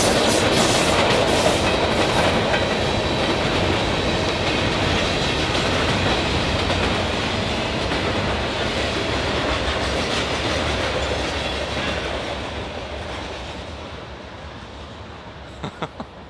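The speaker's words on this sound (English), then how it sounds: "we live with a train track right behind us" A train rolls along the track right behind a house, a loud continuous rumble with rhythmic clickety-clack of wheels that slowly fades as it moves away.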